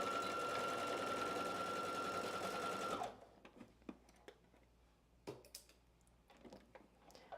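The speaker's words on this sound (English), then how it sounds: "I'm going to go ahead and start sewing the side seam now" A sewing machine stitches the side seam of a top with a 5/8 inch seam allowance, a close, loud, even whir for about three seconds, then stops, leaving faint clicks and handling noises.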